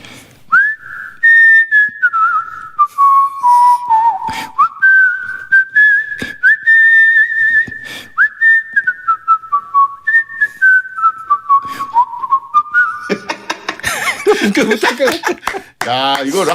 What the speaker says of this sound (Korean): 캐롤이 진짜 휘파람 잘 어울려요